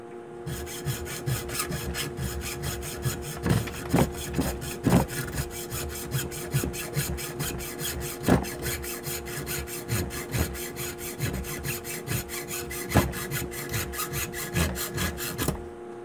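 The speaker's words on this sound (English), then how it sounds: "now I'll go after it with my hacksaw" A hacksaw cuts through threaded rod clamped in a vise, giving steady rhythmic back-and-forth rasping strokes at close range with no talk.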